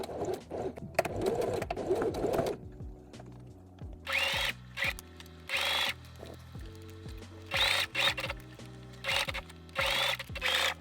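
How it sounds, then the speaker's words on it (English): A sewing machine runs stitching along the raw edge of a T-shirt in several bursts of a few seconds each, with short pauses between them, close and fairly quiet, after a stretch of handling noise at the start. "I'm going to stitch all the way along this raw edge."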